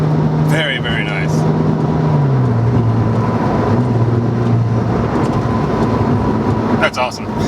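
A 2008 Porsche 997 911 Turbo engine revs under kickdown, a loud, steady drone rising in pitch and then settling, with brief chirps of other noise near the start and end.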